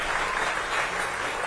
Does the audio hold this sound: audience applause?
yes